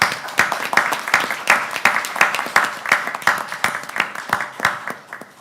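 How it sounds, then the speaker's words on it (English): Audience at a city council meeting claps steadily for several seconds, a dense round of applause with many overlapping hand claps and no talk over it. "I'd like to give you a round of applause first"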